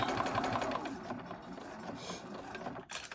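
A sewing machine runs through most of the stretch while a zip pouch is stitched, giving a busy mechanical whir at moderate, close level, with a brief pause near the end. No one talks over it.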